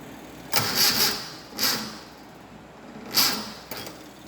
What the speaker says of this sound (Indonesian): kita coba untuk mensetat pada RPM 250 sampai 300